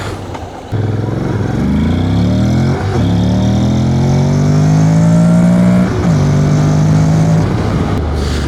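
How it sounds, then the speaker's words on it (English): A motorbike accelerates hard on a straight road, its engine pitch climbing steadily through gears with brief dips at each shift, loud and close with wind noise, and no one talking. "Let's check the acceleration from 0 to 100."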